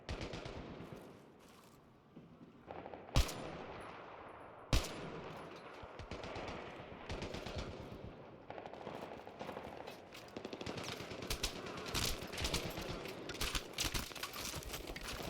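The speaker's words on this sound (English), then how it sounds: "Who the hell is shooting at me?" Sustained gunfire from the video game Battlefield 3: rapid automatic bursts and a couple of loud single shots, dense and continuous through a co-op mission firefight, with no talk.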